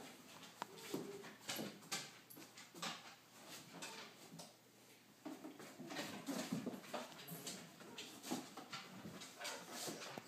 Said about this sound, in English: No barking, Visa.